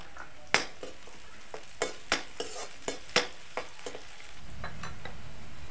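Onions dropped into hot oil after chillies in a pan for a broad bean curry, with a steady sizzle and a series of sharp spoon scrapes and taps as they are stirred, close and fairly loud.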